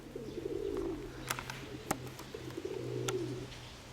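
Soft rolling coos from pigeons come in two or three phrases against a low steady hum, with a few sharp clicks and taps nearby.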